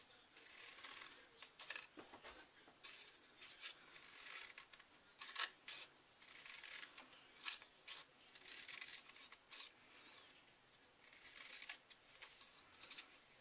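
Fringe scissors snipping through Soft Sky cardstock fed up to a score line, a faint series of quick, crisp cuts repeating in close succession.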